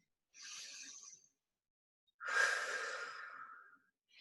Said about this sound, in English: And then rest, take a deep breath.